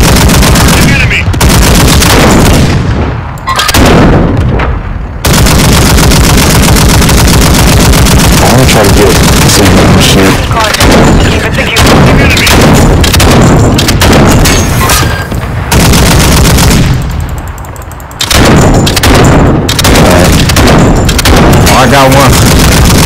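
Loud, dense gunfire from the Modern Warfare video game: rapid automatic bursts and heavy booms run almost continuously, with brief lulls, under players talking.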